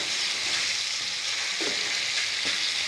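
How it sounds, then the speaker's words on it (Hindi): Chicken karahi fries in a pan with a loud, even sizzle filling the clip, broken by a couple of soft scraping stirs, close by and without voices. "5 मिनट और हम इसको भूनेंगे,"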